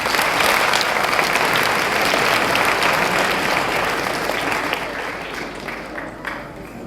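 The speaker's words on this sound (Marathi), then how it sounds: "ज्या पद्धतीने ज्या रिदमने आपण टाळ्या वाजवल्या" An audience at a village health awareness camp claps steadily, a dense sustained wash of applause that stays loud before thinning slightly toward the end.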